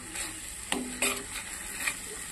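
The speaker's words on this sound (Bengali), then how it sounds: "এটা সুন্দর করে কষতে থাকো।" Pointed gourd curry is sautéed in a pan over a low gas flame, with a steady soft sizzle and a few scraping stirs of a spoon against the pan, heard close.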